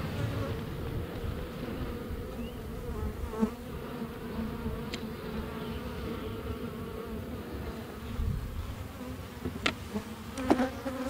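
Bees buzz in a dense, continuous drone around an opened hive, with a few individual insects passing close by.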